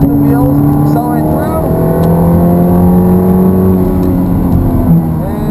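A Ferrari F430 accelerating on the Hallett Motor Racing Circuit, the engine note climbing steadily and loud throughout, with an instructor's voice talking over it.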